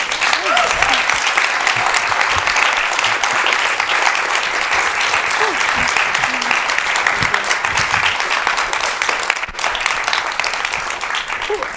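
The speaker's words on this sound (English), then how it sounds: "Yeah, applause." Steady audience applause fills the room after an evening lecture on medical and scientific racism in America, dense and continuous for the whole stretch with a brief dip near the end and faint voices beneath.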